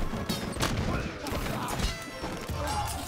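Gatling gun in Totally Accurate Battle Simulator, rattling off amid a chaotic battle: a busy wash of rapid cracks, thuds and crashes at moderate loudness, with scattered voices in the mix.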